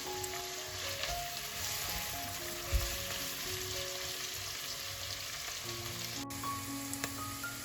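Chopped onions fry in oil for a chicken korma, browning toward light golden, giving a soft, continuous close-up sizzle with light rain-like crackle and one brief clunk, without talk.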